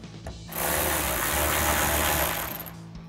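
A ratchet tightens the lower mounting screw on a RedRock pocket-style fender flare fitted to a 2014-2021 Toyota Tundra, sounding as a close, steady mechanical whir for a couple of seconds with no talking.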